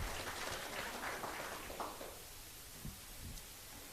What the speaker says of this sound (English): Please give a round of applause to Pastor Loiseau.